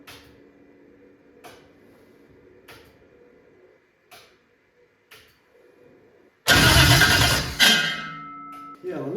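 A Toyota 2JZ engine swapped into a Celica cranks briefly, then catches with a sudden loud roar that holds for about two seconds before dying back; quieter clicks and faint background sounds come before it.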